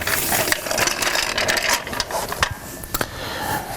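A car jack being lowered slowly, close mechanical clicking and ratcheting with metallic rattles and a few sharper knocks, continuous over a few seconds.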